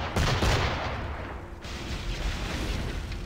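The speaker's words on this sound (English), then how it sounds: "in the time it's taken my brig to do anything, my schooner has shot twice." Dense, loud barrage of cannon fire and booms from a schooner in Assassin's Creed IV Black Flag naval combat, continuous rumbling blasts with no pause.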